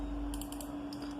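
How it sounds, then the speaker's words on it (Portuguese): Quick computer mouse clicks in a quiet room, a rapid pair of sharp ticks followed by another short pair, close and crisp over a low steady hum. "Você clica duas vezes"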